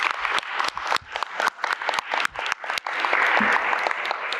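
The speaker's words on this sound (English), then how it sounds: "We're going to give them another round of applause." An audience at a community commission meeting applauds, giving a loud round of clapping with distinct sharp claps that merges into a denser burst near the end.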